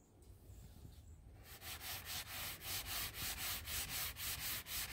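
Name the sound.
sanding vinyl floor with sandpaper on sanding block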